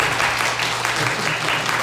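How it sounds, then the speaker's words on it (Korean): Encouraging applause for the worship team at a church teachers' training event, a brief, loud burst of many hands clapping steadily from a crowd. "우리 전사님께 격려의 박수 한번."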